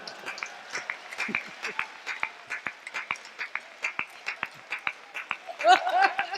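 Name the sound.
audience applause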